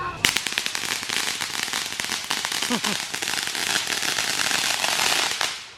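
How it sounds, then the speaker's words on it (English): Fourth of July pre-show fireworks crackle and pop in dense rapid bursts that build into a sustained sizzling barrage, loud and fairly close. "Pre-show fireworks."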